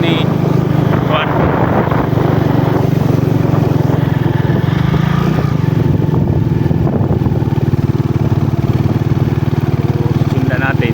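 A motorcycle engine drones steadily while riding, loud and close with wind buffeting the microphone, and people talk over the engine now and then.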